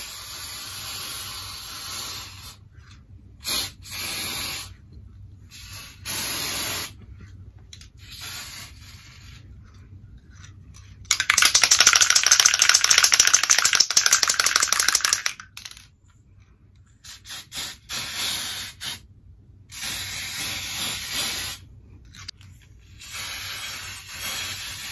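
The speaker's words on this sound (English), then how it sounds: "it's kind of hard to aim with the sprays" An aerosol can of hair colour spray gives one steady, loud hiss lasting about four seconds, with quieter rustling and handling noises before and after.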